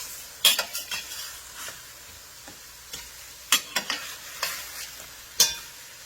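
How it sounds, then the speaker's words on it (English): Tomatoes tumble into onions already sizzling in a Saladmaster pan for vegan tomato soup, a steady fry hiss broken by several sharp stirring and utensil clatters against the pan. "So I'm going to go ahead and put our tomatoes in."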